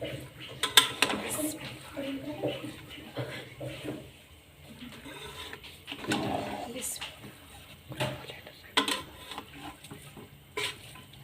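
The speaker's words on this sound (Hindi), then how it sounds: "सब कुछ इसमें डालने के बाद इसको अब हम अच्छी तरह हिला लेंगे।" Stirring a sweet rice mixture in a cooking pot over a medium flame, with soft scraping and clinking of the spoon against the pot in irregular bursts, moderately near, under low background noise.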